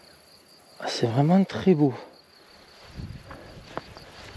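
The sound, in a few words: crickets chirping in mountain grass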